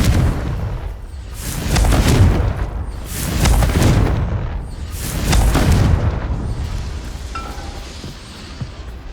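Bombarda and Confringo spell explosions in Hogwarts Legacy, three heavy booming blasts in succession, each swelling and rumbling away, with a faint tail at the end.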